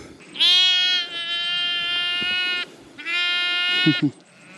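Ewes in a paddock at lambing time on an Australian sheep farm give two long, loud, close bleats, each held for more than a second, followed by a couple of short low grunts.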